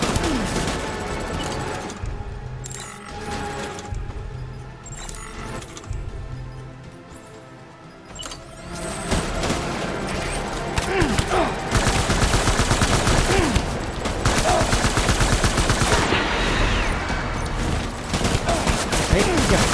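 Gunfire in the Death Stranding video game, sustained loud volleys of rapid automatic shots that thicken into a continuous roaring barrage in the second half.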